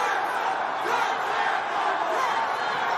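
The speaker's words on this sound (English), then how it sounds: "Crowd coming alive behind Diego Pacheco" Boxing arena crowd cheering and roaring for a fighter, a dense, steady wash of voices swelling slightly, loud and continuous.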